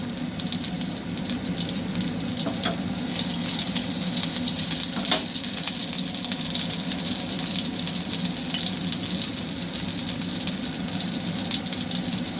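Black mustard seeds with dried and green chilies sizzle steadily in hot oil for a home-cooked spiced rice dish, producing a continuous hiss with faint pops near the pan.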